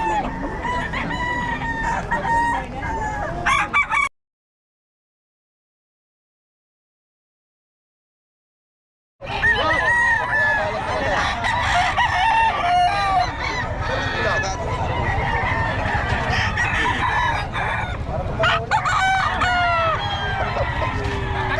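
Roosters crow repeatedly amid clucking fowl at a busy poultry market in Bocaue, a loud crowded din of many birds with a brief dropout of silence partway through.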